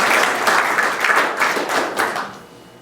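A church congregation applauds with dense, steady clapping that holds for a couple of seconds and then tapers off.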